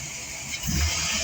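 2004 GMC 4.3 Vortec V6 running after a restart, a brief low engine rumble that thickens into a deeper surge partway through.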